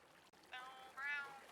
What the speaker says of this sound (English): That's the cat, chat.